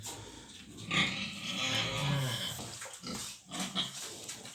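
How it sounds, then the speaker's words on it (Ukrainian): Pigs in a sow farrowing barn grunting and squealing, a dense chorus of snorts and oinks that is close and fairly loud, with no talk over it. "Там, де зараз практично всі свинки знаходяться."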